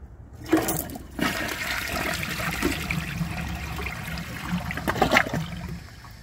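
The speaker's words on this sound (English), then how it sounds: "I think that did perfect, but the flush is so weak that I can't even tell if it struggled or not." A 2014 Vortens Murano toilet flushing a washcloth, a sharp handle clunk followed by rushing, gurgling water that swirls steadily and then trickles as the bowl drains, with no talk.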